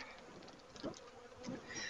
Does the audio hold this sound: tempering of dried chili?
no